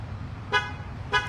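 Two short electronic chirps from a car alarm as a homicide detective locks his car outside a shooting scene, spaced about half a second apart over a low, steady rumble of nearby traffic.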